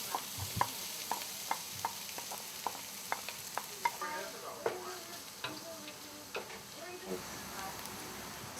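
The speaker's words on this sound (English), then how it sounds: "So the onions and garlic have been cooking for about 5 minutes." Onions and garlic cooking in butter and olive oil in a flat-bottomed risotto pan over medium-high heat give a steady soft sizzle. A spoon stirs in regular sharp ticks, and a voice talks over it at times.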